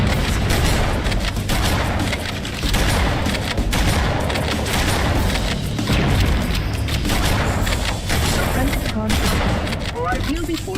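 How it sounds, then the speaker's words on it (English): Continuous loud barrage of booming blasts and rapid gunfire-like crackle from an exploding fusion reactor in a Halo game, dense and sustained with heavy low rumble throughout and no clear gaps. "Use explosives on the other 3 reactors. That should be enough to trigger a wildcat explosion of the engines."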